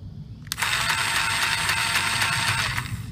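A modded Nerf Rapidstrike's pusher motor runs at maximum, kicking in abruptly as a loud, steady high-pitched whir that holds evenly for over two seconds before easing off at the end.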